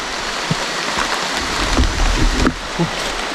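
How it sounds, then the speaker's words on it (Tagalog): Heavy rain pours down in a dense, steady hiss, with occasional dull thumps and knocks close by. "Ang lakas ng ulan bro."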